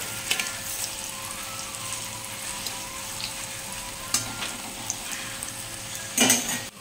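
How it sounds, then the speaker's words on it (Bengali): Jackfruit fritters frying in hot oil give off a steady close sizzle, with a few sharp scrapes and clinks of a spatula against the pan, the loudest near the end. "লাল লাল করে ভেজে নেব"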